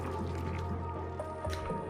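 Soft, steady liquid trickling and dripping from a water sieve in the colony game Oxygen Not Included, quiet and continuous with a low hum beneath.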